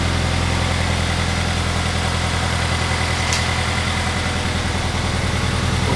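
2020 Toyota 86 with CNT headers idling, a steady deep exhaust rumble with even pulsing throb, close and constant throughout without interruption.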